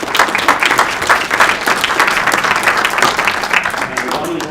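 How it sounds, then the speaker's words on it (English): Audience at a joint town planning and zoning board meeting in Liberty, NY claps for the planning board, a loud burst of dense applause with some voices underneath. "It's okay to clap for these people."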